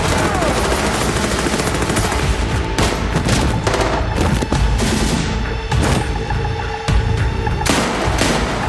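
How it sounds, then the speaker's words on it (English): Gunfire from a movie trailer: dense, loud, continuous sound with scattered shot-like bangs and booms, heavily mixed and layered with other effects throughout. "Lots and lots and lots of bullets flying everywhere"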